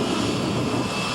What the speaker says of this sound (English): It's a unique sound, the Brain Damaged jet dragster of Neil Hansen.